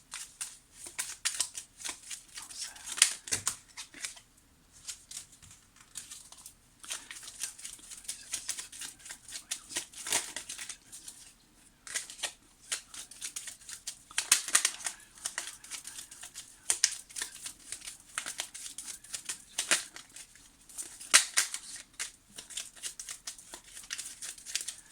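Petit Lenormand fortune-telling cards are shuffled close by in repeated bursts of papery riffling and flicking. Brief pauses separate the bursts, and the sound is moderately quiet with no talking over it.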